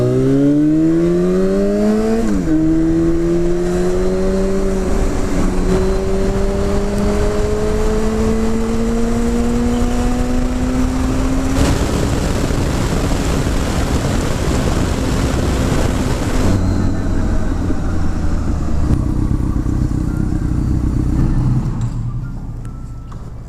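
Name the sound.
Yamaha FZ6 motorcycle riding to the car wash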